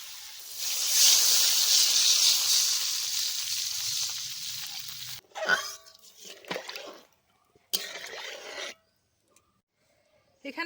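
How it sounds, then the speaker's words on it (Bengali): Water poured into a hot pan of fried rohu fish for a sour raw-mango curry sets off a loud, broad hiss that fades over several seconds, followed by a few short bursts of bubbling and scraping before quiet. "এখন এর মধ্যে দিয়ে দিচ্ছি জল এখানে"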